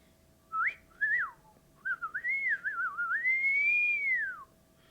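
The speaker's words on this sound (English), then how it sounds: "I'm a pretty good whistler." A person whistles a short, clear tune up close, starting with two quick rising notes and then a longer gliding phrase that swells and falls away, over a quiet room.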